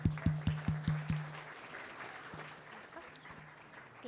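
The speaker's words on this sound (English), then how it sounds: "Give an applause." Audience applause at a space career fair, opening with a run of sharp, evenly spaced claps that then thin into scattered, softer clapping from a room of people.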